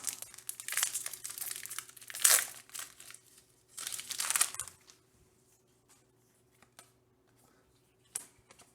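Foil wrapper of a Modern Horizons 2 Magic card pack crinkling and tearing open in close, loud bursts over the first five seconds, then quiet with a few small rustles.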